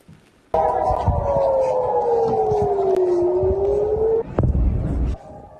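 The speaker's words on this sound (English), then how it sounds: "We've been hearing air raid sirens and explosions across Israeli cities." A loud air raid siren in an Israeli city wails steadily during a missile attack, its pitch sliding slowly downward, then cuts off, leaving a brief rumble of background noise.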